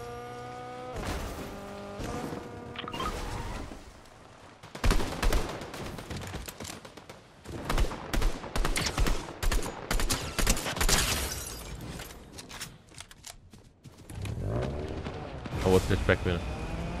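Video game gunfire crackles in dense bursts, with sharp shots and louder explosive blasts in rapid clusters, separated by brief quieter gaps and mixed with other game sounds.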